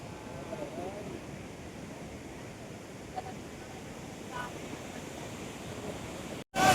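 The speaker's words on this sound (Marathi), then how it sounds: "ही अलकनंदा नदी आहे" The Alaknanda river at Badrinath in the Himalayas rushes past in a continuous, even roar of flowing water, moderately distant and steady throughout.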